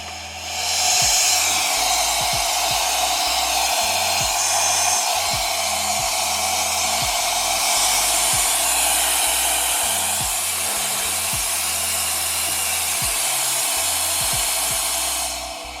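A KiCA Jet Fan 2 electric air duster runs with its narrow nozzle fitted, giving a loud, steady high-pitched whooshing roar. It spins up at the start and holds a constant drone throughout, with faint low clicks underneath.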